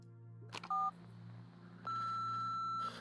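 A missed-call voicemail tone in the video game Nobody Wants to Die: a brief double electronic beep, then a longer steady tone held for about a second over a low background hum.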